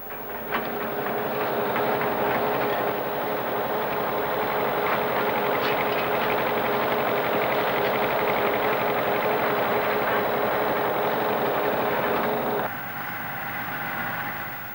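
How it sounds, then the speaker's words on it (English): Loud, steady mechanical rumble and clatter of a concrete paving train's heavy machines running continuously up close, dropping slightly in intensity near the end. "The paving train produces a finished concrete road by a series of machines working one after the other."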